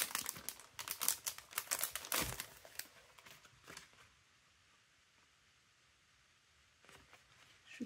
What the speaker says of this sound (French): Je pense que je vais tout découper là.